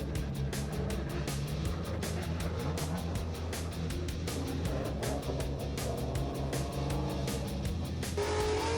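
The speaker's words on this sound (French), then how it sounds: "Nous sommes sur le circuit du Nürburgring, dans la partie basse du circuit de Formule 1, où se sont rassemblés des passionnés de dérive avec des bolides survitaminés." Drift cars roar on the lower Formula 1 section of the Nürburgring circuit, loud continuous engine howl with rapid rhythmic revving pulses and hints of tire squeal, close and steady throughout.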